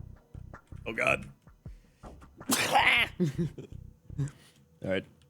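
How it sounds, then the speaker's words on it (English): A man sneezes once, loud and close, in a sharp explosive burst midway through, with his voice and small vocal noises around it. "I swear, sneezing like that's gonna throw out my body at some point."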